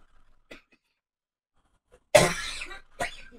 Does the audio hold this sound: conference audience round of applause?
no